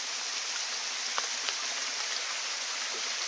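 Steady rain drums on a tarp shelter at a rainy bushcraft bivouac, a dense even hiss with a few louder drops striking close by, and no one speaking.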